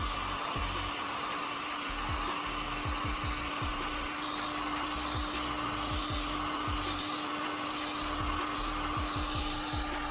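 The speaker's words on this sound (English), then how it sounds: "I'll use a heat gun to carefully soften the PVC." A heat gun blows with a steady, droning whoosh and a constant hum while softening PVC pipe, and soft low knocks from handling sound through it.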